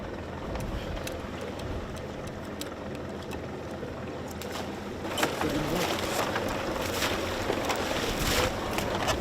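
A fishing boat's engine drones steadily as the boat circles a school of fish at sea. The drone is loud and constant, with wind and water noise, and grows rougher and more splashy partway through.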